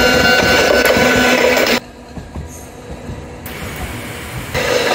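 A Kagoshima city tram rolls past a level crossing near Usuki 1-chome stop, a loud close rumbling clatter that cuts away abruptly to quieter ambient noise before returning.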